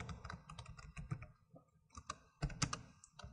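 Typing on a computer keyboard, a rapid irregular series of close, crisp key clicks in short bursts with brief pauses between them.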